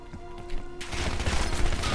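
Gunfire in the Black Ops 6 campaign on PC breaks out as a loud, dense burst of rapid shots after a quieter opening with a steady low hum, continuing to the end.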